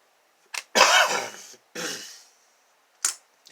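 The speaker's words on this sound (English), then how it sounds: "Still got all that nightly coughing" A few harsh coughs in quick succession, close to the microphone, followed by brief pauses and a couple of short sharp coughs at the end.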